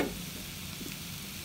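Maggi goreng ayam, instant noodles fried with chicken and egg, sizzles softly in a pan while being stirred, a quiet continuous frying hiss with faint scraping.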